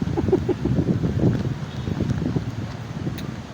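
Wind at a park rumbles and buffets the microphone in steady low gusts, with faint, indistinct background sounds mixed in.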